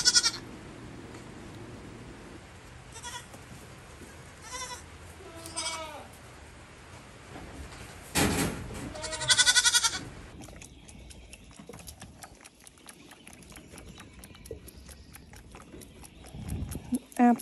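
Baby goats on a farm during morning chores bleat several times, close by, in short wavering cries spread across the scene, mixed with people talking and other barnyard noises.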